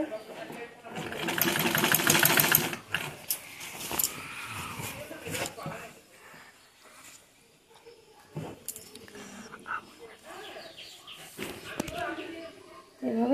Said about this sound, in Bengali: ভাঁজ দিয়ে নিয়ে আবার সেলাইটাকে কমপ্লিট করে নেব